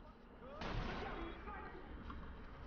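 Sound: gunshots in the video game Watch Dogs

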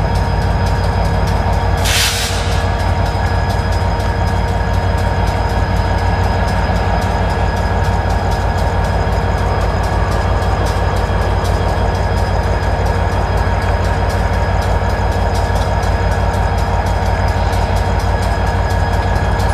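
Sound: train idling on tracks

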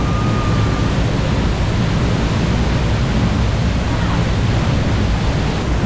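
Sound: waterfall roaring in Bali

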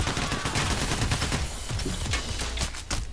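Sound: gunfire from police in the video game PAYDAY The Heist

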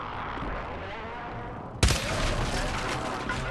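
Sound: shotgun firing in video game Call of Duty MW3

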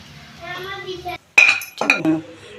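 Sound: cooked curry transferred into a bowl, utensils clinking

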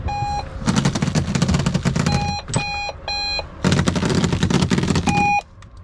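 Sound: alarm going off in a van

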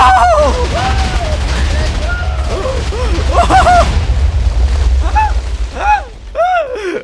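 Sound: explosion in a video game

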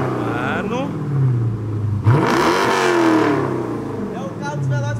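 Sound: Corvette engine revving

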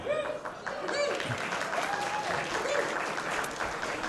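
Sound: audience applause at a nightclub show

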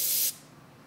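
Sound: spraying carburetor cleaner on a two-stroke engine carburetor

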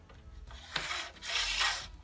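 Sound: sliding anti-lift clip onto roller shutter slat

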